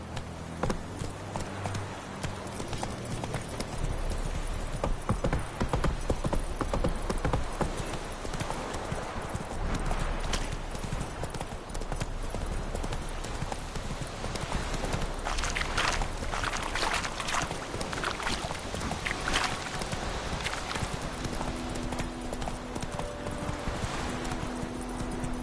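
Roach the horse gallops hard in The Witcher 3, a long dense stream of pounding hoofbeats with a rushing, wind-like wash over it, continuous and loud throughout, with no speech.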